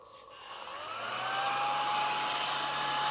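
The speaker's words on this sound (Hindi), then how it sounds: "हमारे पास एक और ऐसे चीज़ है जो है टेबल टॉप क्लीनर" Electric tabletop cleaner sucking up dust on a desk, a close whirring motor that rises in pitch and loudness as it spins up, then holds a steady hum.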